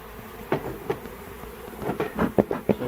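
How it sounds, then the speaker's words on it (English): Agitated honey bees buzz from an opened nuc box on a farm, a steady humming swarm with several sharper, louder pulses as disturbed bees rise close by. "So it's a lot of bees that are not happy right now."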